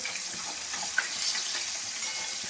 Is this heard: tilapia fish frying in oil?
yes